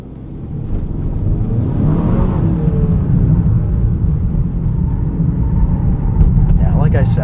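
A 2024 Hyundai Sonata N Line's 2.5-liter four-cylinder in sport mode gives a steady low engine drone with road rumble inside the cabin, and a voice talks over it.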